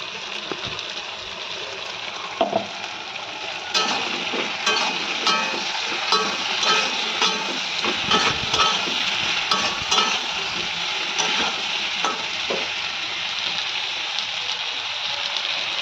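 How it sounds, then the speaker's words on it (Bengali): Ginger and green chilli paste frying with vegetables in a pan, giving a steady close sizzle with stirring scrapes and clatters running throughout, no talk. "আমার সবজিগুলো সব ভাজা হয়ে গেছে, আমি এক একে সব মশলাগুলো দিয়ে দেবো। আদা আর কাঁচা লঙ্কার পেস্টটা দিয়ে দেবো।"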